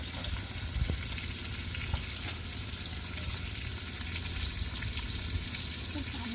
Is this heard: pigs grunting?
no